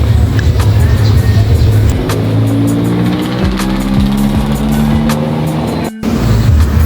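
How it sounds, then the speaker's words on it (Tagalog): A carousel bus travels along the road, its engine a loud, steady rumble with rising and falling gear tones and passing traffic noise, heard from close by. "sakay lang tayo ng carousel bus"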